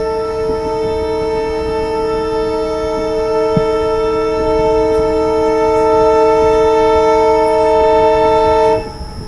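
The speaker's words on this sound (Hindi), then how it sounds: "कोई तो ट्रेन क्रॉस होने वाली है हमें। और एल्को, बिल्कुल एल्को है ये।" A train hauled by an ALCO diesel locomotive passes close by, its horn sounding as a long, loud multi-tone blast held almost throughout before cutting off near the end, over steady engine and wheel rumble.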